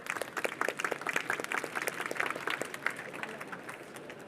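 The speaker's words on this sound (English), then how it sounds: "Big round of applause for the first round of pitches." An audience at a food and agriculture pitching session gives a big round of applause, dense, steady clapping from a crowd at moderate distance that slowly thins toward the end, with faint voices mixed in.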